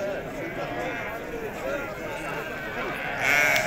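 A ewe bleats amid the steady bustle of a crowded Moroccan livestock market, with several bleats overlapping the constant chatter of people talking nearby and a louder burst of voices near the end.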